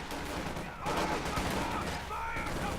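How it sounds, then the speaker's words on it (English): Volley of rifle fire from Volksgrenadier infantry in Company of Heroes 2, a dense crackle of gunshots running steadily through the whole stretch, loud and continuous with battle noise layered over it. "We got a volley fire from those."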